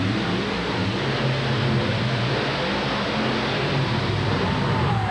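Monster trucks Equalizer and King Crunch race at a 1989 championship event in Louisville, Kentucky, producing a dense, steady engine roar that fills the air at moderate distance.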